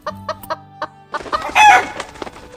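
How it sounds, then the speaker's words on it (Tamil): A newly bought chicken clucks loudly and close by, a few sharp separate clucks followed by a rapid, agitated burst of squawking. "முட்டை எடுக்க கூடையை திறந்தப்போ அந்த புதுசா வாங்கி இருக்க கோழி ஓடிடுச்சுங்க"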